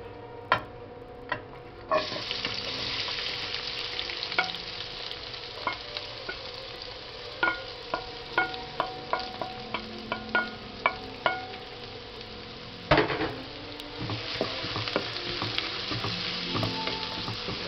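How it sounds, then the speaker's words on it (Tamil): Steady oil sizzle of onions frying in a pan with fennel and cumin seeds for quail curry, with scattered clicks and taps of a spatula stirring throughout. "வெங்காயம் நல்லா வதங்கட்டும்"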